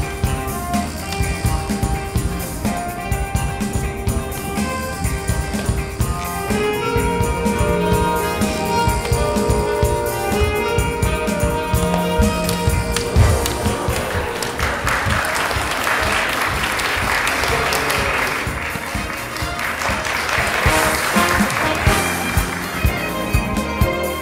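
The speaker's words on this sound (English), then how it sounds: "A nice round of applause." Sustained audience applause fills an awards ceremony hall, dense clapping continuing for over twenty seconds with swells toward the end and no talking over it.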